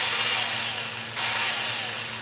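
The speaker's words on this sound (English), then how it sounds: "It's a handheld chainsaw." A handheld portable chainsaw runs close by with a steady, loud whine, briefly dipping in pitch midway before revving back up.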